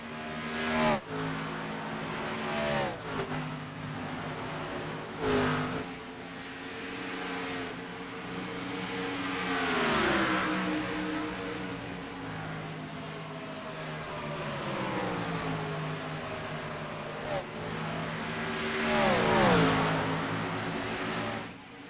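Stock cars racing in a video game race, engines droning and revving at close range with repeated pitch swoops as cars shift and pass, a continuous pack roar with no voices.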